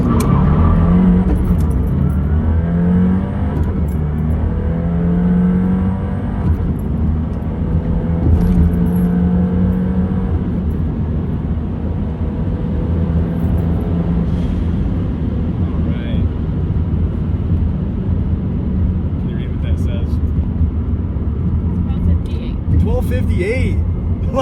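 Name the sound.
Subaru WRX accelerating hard in a launch pull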